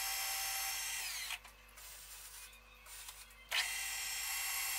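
A lathe bores the inside of a steel tube with a TSMT insert, giving a harsh, high-pitched cutting hiss that drops away into a quieter mechanical hum midway, then returns sharply. No one speaks.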